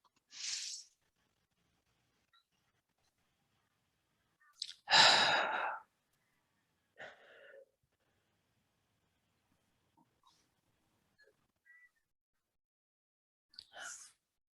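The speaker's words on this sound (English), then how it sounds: "I invite you to take 2 or 3 more deep breaths like that" Deep, slow breathing during a relaxation exercise, with several long, airy exhales separated by quiet pauses, close and clear, one breath noticeably fuller than the rest.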